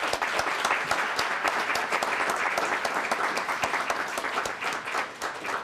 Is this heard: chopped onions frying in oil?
no